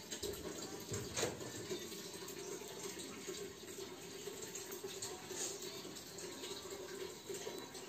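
Freshly boiled water pours in a steady gushing stream, close and fairly quiet, running continuously without talk.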